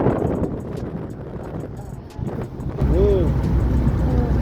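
Strong wind buffets a car driving slowly across the Jamuna bridge, a steady, loud rush and rumble with road noise underneath.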